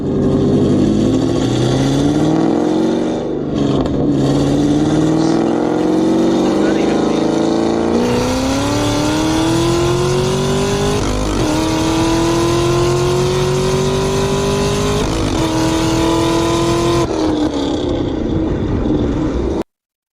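A fifth-generation Chevrolet Camaro ZL1 engine revs and accelerates hard, its loud droning pitch climbing steadily through gear changes for nearly twenty seconds.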